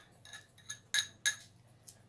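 Salad dressing for a cucumber salad being mixed in a bowl, with bright clinks of a utensil against glass or ceramic, a few sharp taps and scrapes close by, faint and without any talk.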